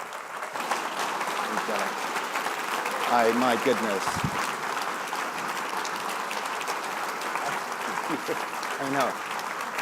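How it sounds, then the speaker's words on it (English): A Socrates in the City audience gives a warm, sustained round of applause for a speaker, a steady crowd clatter filling the hall while a voice speaks briefly over it. "How about a warm Socrates in the City round of applause for the truly great Dr."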